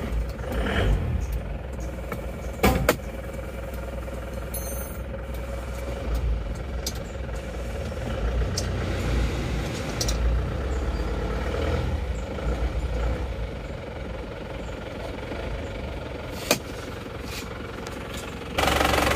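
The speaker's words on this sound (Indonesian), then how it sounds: "Untuk suara mesinnya itu seperti ini." An Isuzu Panther diesel engine idles after repair work on oil blow-by, running with a steady, even rumble and a few sharp clacks and knocks, close up and alone with no voices.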